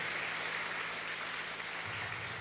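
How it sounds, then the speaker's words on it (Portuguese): A seated church congregation applauds during a worship service, a brief continuous wash of clapping with no pauses, steady and fairly even in level. "aplauda ao Senhor mais uma vez"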